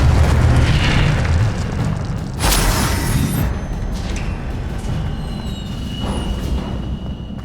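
An Incendio fire spell in Hogwarts Legacy bursts with a loud booming whoosh, followed by a second blast and rumbling fiery roar that fades, alone without speech.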